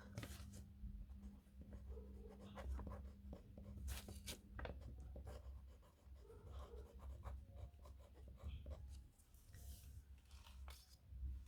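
A pen scratches across paper in short, quiet strokes close to the microphone, with a soft low hum in the background.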